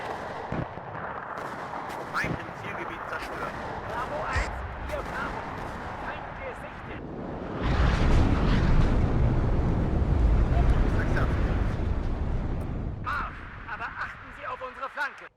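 Artillery fire in the WARNO real-time strategy game: booming rumbling volleys that swell into a long heavy barrage midway, with sharper cracks at the start and end, under in-game voices.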